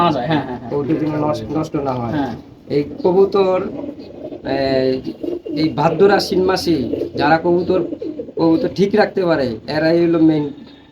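Racing pigeons coo in repeated soft, throaty phrases close by, while someone talks almost continuously over them.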